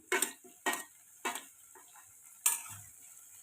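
Green chillies dropped into a hot pan for a dry potato sabzi, with a few sharp clinks and short sizzling bursts at irregular intervals, close and fairly loud, no voices.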